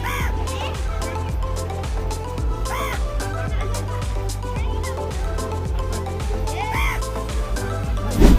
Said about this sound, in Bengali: এতদিন আমরা কালো কাক দেখেছি, বাট আজকে দেখব ঠিক সাদা দগদগে কাক।